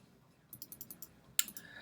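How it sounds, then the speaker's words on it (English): Computer mouse clicks while setting a time in a scheduling tool: a quick run of five or six light, evenly spaced clicks, then a sharper click and one or two more, close and quiet with no talk. "specify your time by clicking up or down"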